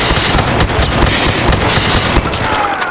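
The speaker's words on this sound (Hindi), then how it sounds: "यार ये शॉटगन है" Shotgun blasts in Call of Duty Mobile, a dense run of loud, rapid booming shots that fill the whole stretch with little pause.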